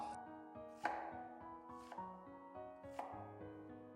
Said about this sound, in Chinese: 旋转90度切成洋葱碎